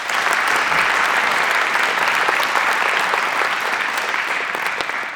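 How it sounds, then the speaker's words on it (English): An audience gives sustained applause for high school football coaches at a Sparta football honors event. The clapping is dense and even, filling the space throughout and easing slightly near the end. "Let's give them a round of applause."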